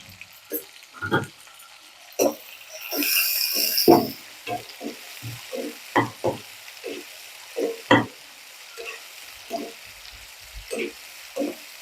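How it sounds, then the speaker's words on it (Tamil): Tomatoes and onions sauté in a pan with salt, giving a steady sizzle broken by repeated scraping stir strokes and a brief louder burst of frying partway through. "தக்காளி போட்ட உடனே கொஞ்சம் உப்பு போட்டு வதக்கிட்டோம்னா தக்காளி வெங்காயம் எல்லாமே நல்லா வதங்கும், சீக்கிரமா வதங்கும்"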